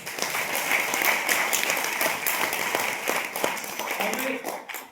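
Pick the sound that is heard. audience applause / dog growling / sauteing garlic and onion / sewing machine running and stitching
audience applause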